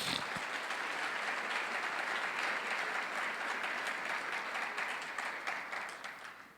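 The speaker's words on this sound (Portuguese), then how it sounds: "Você pode aplaudir a Jesus." Sustained applause from a church congregation during a worship service, dense even clapping from many people that holds steady before slowly fading.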